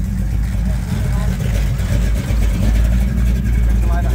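A 504-engined SS Camaro rumbles loudly and continuously close by during a car cruise in the Yarra Valley, its deep engine drone running throughout under talking voices.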